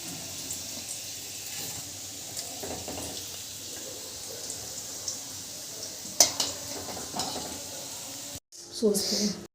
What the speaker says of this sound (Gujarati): એવી જ રીતે આપણે બધી જ ભરેલી કચોરી તળી લેશું